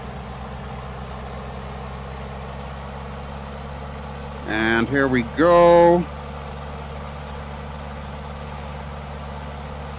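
A Tiger Moth biplane engine in Microsoft Flight Simulator runs at a steady, droning throttle, an even engine note that continues throughout while a voice speaks briefly in the middle.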